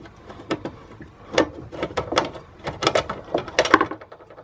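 Screws being loosened under a kitchen sink during a sink upgrade, a series of irregular clicking and ratcheting turns at close range, quiet overall and with no talking.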